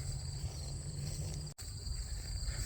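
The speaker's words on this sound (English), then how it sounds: "There's like over 100 grasshoppers jumping around me right now." Insects in a grassy field beside a parking lot, a steady high chirring buzz from many grasshoppers layered over low background rumble, continuous and faint with a brief dropout, no talking.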